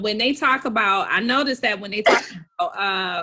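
A single sharp sneeze bursts out in the middle of a woman's ongoing conversation, followed by a brief silence before talking resumes.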